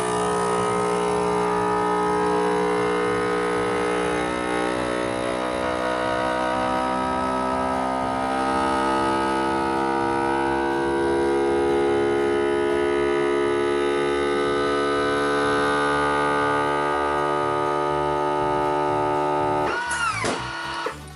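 A vacuum sealer's steady pump drone hums continuously for about twenty seconds while sealing a jar, then cuts off abruptly with a brief rattle at the end.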